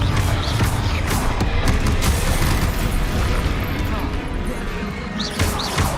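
An explosive Confringo spell blasts in the Hogwarts Legacy video game, with a sustained, booming, crashing roar across several seconds and scattered bursts and impacts layered through a loud battle din.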